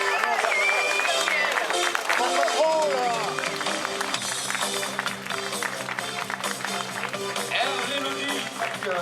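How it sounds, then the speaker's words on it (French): Crowd applause and cheering for the French team at a cycling podium ceremony of the Trophée Centre Morbihan, steady and dense throughout, with an announcer and music running over it. "On applaudit l'équipe de France."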